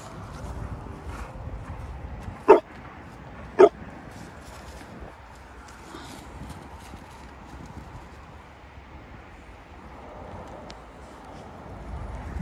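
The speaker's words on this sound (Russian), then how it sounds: "Ты бешеная собака." A pet dog fetching after a swim outdoors gives two sharp, loud barks close by, a little over a second apart, against a low, steady outdoor background.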